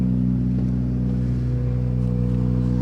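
A rally car idles and rumbles at the stage arrival point of a special stage in the Rally of Canberra, a steady low engine drone holding even throughout, fairly loud and close.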